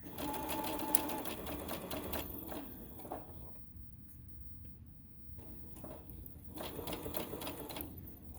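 Home sewing machine back stitching a fabric tote bag: close, rapid mechanical whirring in short bursts, with a pause in the middle before stitching resumes.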